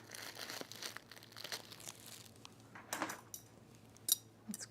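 Fabric crinkles and rustles while scissors snip it for a Sintra halter top, soft close-up handling sounds with a few sharper cuts near the end, quiet and without talk.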